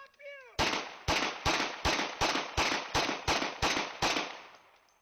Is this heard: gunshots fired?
yes